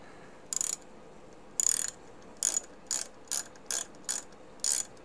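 Rapid ratcheting clicks as a screw is pushed into the resin tank of an Elegoo Mars Pro 3D printer, eight short buzzy bursts spaced about half a second apart, close and fairly faint.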